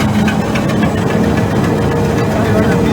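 On a farm, a truck's second PTO drives a pump, producing a close, loud, continuous engine-and-pump drone that runs steadily from start to finish.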